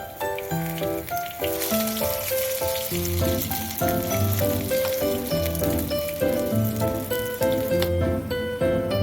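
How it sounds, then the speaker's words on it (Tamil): Brinjal slices fry in oil on a dosa griddle with a steady crackling sizzle, partly masked by loud melodic background music throughout. "எண்ணெய் சுட்ட உடனே இதை தோசை கல்ல அப்படியே போட்டு ஃப்ரை பண்ணி திருப்பி"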